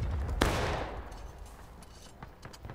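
Rifle gunfire in the Civil War shooter War of Rights during a stone wall fight: one sharp, loud shot near the start, then a dense, rumbling spread of scattered distant musket shots.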